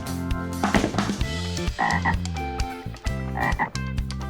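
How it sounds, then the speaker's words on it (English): A frog croaks in a series of deep, throaty calls, loud and close, with short pauses between bursts and a rhythmic, uneven pattern over light background music. "frog"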